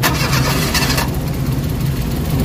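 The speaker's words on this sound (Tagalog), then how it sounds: "So may kita nyo, nag-start ng makina." A Suzuki DA64 car engine, one with a strong vibration fault, starts up and settles into a loud, steady running drone close by, with no talk.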